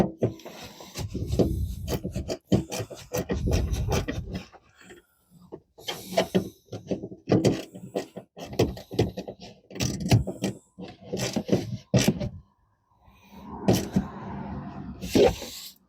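Scraping and rubbing on a loosened car ground connection being cleaned, irregular bursts of gritty rasping close by, starting and stopping with brief pauses in between; no talk.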